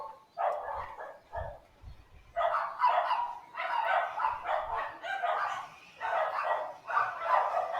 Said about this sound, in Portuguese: Ó a cachorrada.